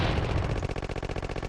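Rapid automatic gunfire and explosions from the Contra video game sound as a dense, loud, rhythmic burst of shots with no talking.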